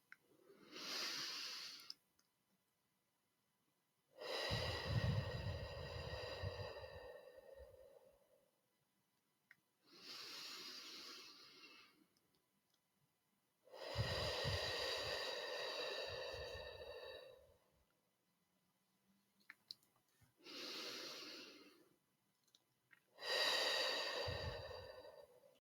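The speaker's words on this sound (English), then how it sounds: "again your belly rising on the inhale and falling on the slow exhale" Slow, deep breathing during a guided relaxation exercise, with long drawn-out inhales and exhales alternating in a steady rhythm, close and clear, separated by short quiet pauses, with no talk.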